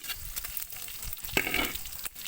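Garlic and onion sizzle in hot oil in a pan while being stirred, a steady crackling fry with a brighter hiss as the ingredients hit the pan, close and alone.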